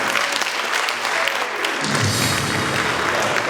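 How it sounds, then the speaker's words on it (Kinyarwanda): A church congregation breaks into applause, the clapping filling the room steadily and growing fuller and louder about halfway through, with no talk over it. "Reka dushime Imana iba yabikoze n'amashyi."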